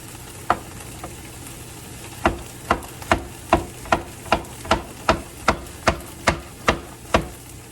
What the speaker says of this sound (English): I'm just gonna rough chop this squash. I'm gonna run it down the middle.